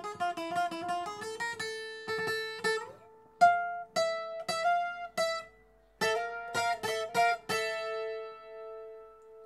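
A solo requinto guitar plays a nimble melodic phrase of many bright plucked notes with short pauses between groups, the last notes left ringing, clear and close with no speech.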